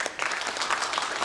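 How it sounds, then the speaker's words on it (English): An audience at a panel discussion on banking and technology claps steadily in a brief, dense burst of applause for the panel speakers. "one round of applause for all of them"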